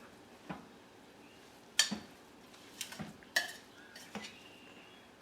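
A spoon stirs chipotle marinade and taco seasoning in a crockpot, giving a few scattered scraping and clinking strokes against the pot, quiet and close, with no talk.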